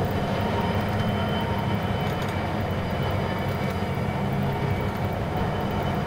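A toy train runs in the Rolling Line model railway simulator game, giving a steady, continuous rolling rumble with faint rail clatter that holds unchanged throughout, with no talking.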